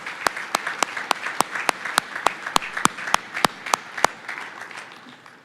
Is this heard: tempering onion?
no